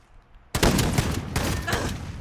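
Rapid burst of automatic gunfire in Call of Duty Modern Warfare, loud and close, starting abruptly after a quiet moment and continuing as a dense rattling volley with a few sharper peaks.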